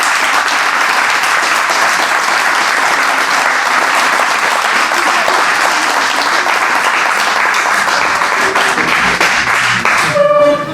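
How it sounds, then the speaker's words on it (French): Sustained applause from an audience at a municipal council ceremony in Rebecq, steady and dense for about ten seconds before thinning at the end. "on peut en tout cas vous applaudir"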